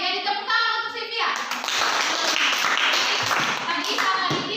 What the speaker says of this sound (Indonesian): jadi tepuk tangan untuk Cynthia